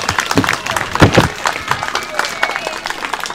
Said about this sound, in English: Round of applause for Nari, guys